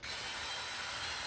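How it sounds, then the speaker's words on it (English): Glass marble rattling inside a spray paint can spun in a homemade mixer, a steady dense clattering rattle that runs continuously and loud throughout. "I think you can hear the marble."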